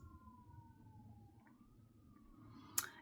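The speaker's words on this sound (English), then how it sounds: "I hear an ambulance." An ambulance siren wails far off, a faint, slowly gliding tone above low background rumble, with a sharp brief click near the end and no voices.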